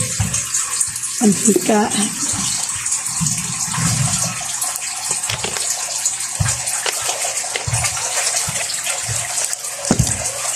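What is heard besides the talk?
water running from tap while adding water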